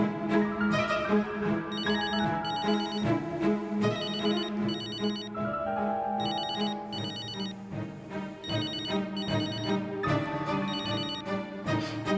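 A telephone rings over and over in a domestic scene from an Indonesian TV drama, with bright electronic ring bursts in a steady repeating pattern. The rings are loud and close, with no talk over them.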